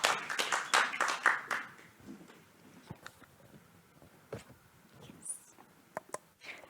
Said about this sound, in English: So please an applause for her as well.